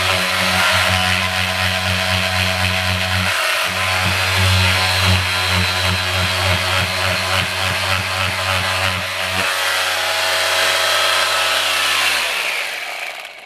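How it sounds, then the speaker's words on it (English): A power sander grinds paint off a cracked carbon fiber Bimota fairing on an FZR restoration, loud and continuous with a steady motor drone that shifts pitch partway through and winds down at the end. "Sand the paint down."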